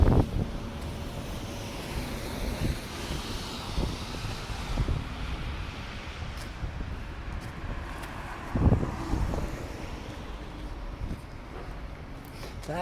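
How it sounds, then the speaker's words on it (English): Steady wind roars over the microphone outdoors while walking around the South End near Scotia Square, a broad constant rush with louder gusts, and no voices. "As long as I don't face the wind, it shouldn't be a problem."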